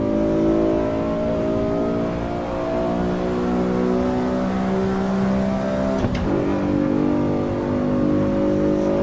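A large car's engine drones steadily through a lap in the Assetto Corsa EVO racing sim, holding a sustained harmonic note with small pitch shifts and a brief shift or bump near the end.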